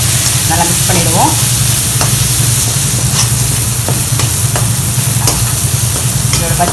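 Chilli powder masala stirred in a hot pan, a loud, close, continuous sizzle with scraping spatula strokes and scattered sharp clinks against the pan.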